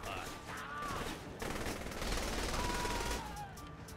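Sustained gunfire in Saints Row: The Third, a dense fusillade of rapid shots, fairly faint and mixed with game noise and muffled voices throughout.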